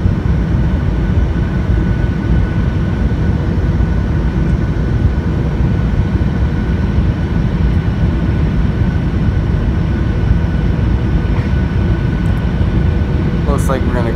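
An airliner landing roughly on the runway at San Juan, Puerto Rico, heard from inside the cabin as a loud, steady, unbroken roar of engine and rumble, with faint voices underneath.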